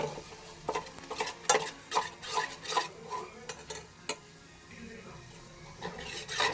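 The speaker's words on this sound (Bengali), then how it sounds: "এখানে চা আর চিনি প্রথমে দিয়ে দেবো দিয়ে একটা সুন্দর ক্যারামেল তৈরি করে নেব চা আর চিনি দিয়ে" Tea leaves and sugar caramelize in a pan while being stirred, giving repeated scraping and clinking strokes over a soft, faint sizzle, with no talking.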